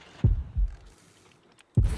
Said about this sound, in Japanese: 心音が鳴り始める